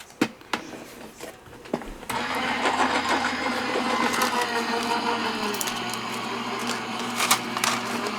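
A die-cutting and embossing machine feeds a card through its rollers, a few sharp clicks and taps giving way to a steady grinding, rumbling crank that holds for several seconds.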